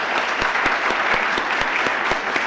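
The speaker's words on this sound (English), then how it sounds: "Let's give them a round of applause." Steady audience applause at an awards ceremony, many hands clapping densely and evenly throughout, with a few sharper claps standing out.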